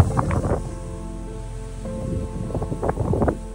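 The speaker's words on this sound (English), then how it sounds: "And with the wind picking up" Strong wind on a mountain climbing face, a steady rumbling roar with gusty bursts and low buffeting, loud and close throughout.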